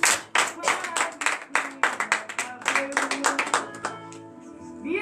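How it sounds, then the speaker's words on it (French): Rhythmic congregational clapping in acclamation during a morning prayer service in Benin, loud and close with sharp, unevenly spaced bursts, then giving way to sustained musical tones near the end. "Donnez l'acclamation à Jésus"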